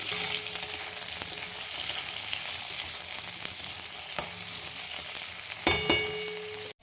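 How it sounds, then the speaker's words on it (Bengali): Onion and thin, long potato slices fry in a pan with a steady, close sizzle, punctuated by a few sharp clicks of stirring and no talking. "দেখো এর মধ্যে পেঁয়াজটা ভাজা হয়ে গেছে। একটা আলু দিয়ে দিলাম, এইভাবে পাতলা পাতলা করে কেটে লম্বা করে।"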